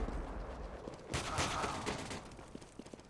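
Gunfire in the video game CS:GO comes as a short burst of sharp shots over a busy low background, with a few fainter cracks trailing afterward.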